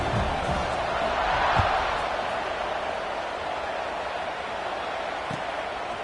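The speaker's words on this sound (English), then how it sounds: "They're set to kick it off, and this crowd now ready to get behind them" A college football stadium crowd at Cal vs Virginia roars in a broad, continuous wash before kickoff, loudest at first and easing slightly, with faint thumps and no clear talk.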